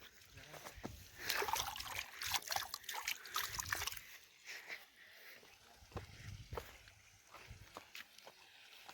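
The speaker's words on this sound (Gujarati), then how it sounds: "ફરતું પાણી છે." Water of the Par river near a dam in Valsad flows with soft, irregular trickling and sloshing, fairly quiet and close, with a busier burst early on before it settles into gentler movement.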